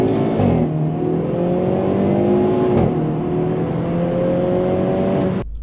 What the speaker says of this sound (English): this 2022 Hyundai Veloster N. It features a turbocharged 4-cylinder engine pumping out 225 horsepower.